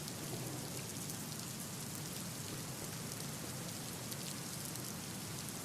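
Heavy rain pours steadily next to a railway station ticket office, where rainwater leaks onto the footbridge, making a dense, even hiss of drops on hard surfaces throughout with no breaks.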